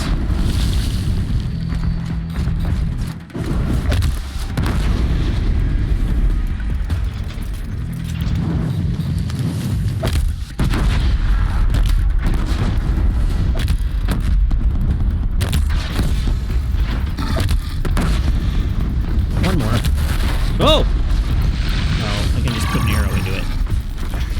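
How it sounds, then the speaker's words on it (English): Repeated bomb explosions and booming blasts from a fight against Scorcher machines in the video game Horizon Zero Dawn, loud and dense throughout, with mechanical clatter and a voice talking over the action. "This is the way to kill Scorchers. Just hit it with a lot of bombs."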